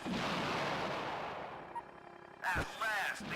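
Bombers delivering air support in the video game Battle Engine Aquila, a broad rumbling barrage of distant blasts that fades, followed by two sharper loud bursts with whining tones near the end.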